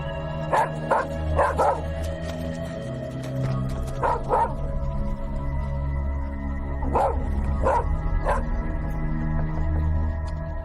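A dog barks in short bursts of two or three yelps, separated by pauses, heard from a nearby room over a low indoor hum with no speech.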